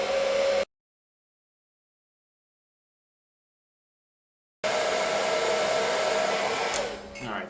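Heat gun heating the main shaft bearing block of an Outrage Fusion 50 helicopter, a steady whooshing blower hiss that cuts out into silence for several seconds and then resumes, close and constant.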